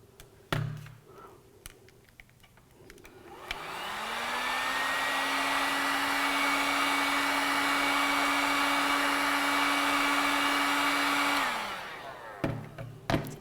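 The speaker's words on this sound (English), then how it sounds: "it may be necessary to warm it up with a hairdryer in order to bend it." A hair dryer switches on with a rising whine and blows as a steady, loud whirring drone for several seconds, then winds down and stops.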